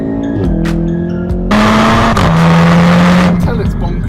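A VW Golf R in race mode dropping down through the gears on an open road, its engine note stepping between pitches with a throaty roar and rising revs, loud and close.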